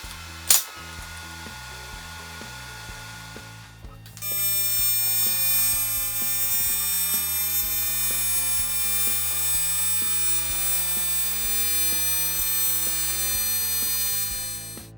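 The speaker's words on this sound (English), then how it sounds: "and now I can finish weld the joint." An aluminum tube joint is being finish-welded with a steady, close electrical buzz and hum, which starts after a brief click and a quieter stretch.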